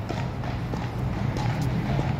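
Horse hooves clip-clopping on a London street near Buckingham Palace and St James's Park, a steady rhythmic clopping set within constant crowd and traffic noise.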